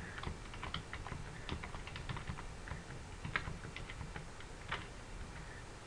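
Fast, steady typing on a computer keyboard while filling in an online abstract submission form, a run of light, close clicks with small bursts and no pauses, fairly quiet and with no talking.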